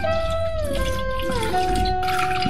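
Water pours steadily into an electric kettle while making green tea, a continuous bright filling sound with a rising pitch as the vessel fills, close and alone without talk.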